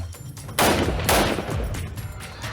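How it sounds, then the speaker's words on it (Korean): Gunfire rings out in the streets amid conflict with the Taliban, two loud sharp bursts with ringing decay followed by sustained rumbling echo and noise. "거리엔 총성이 울리고"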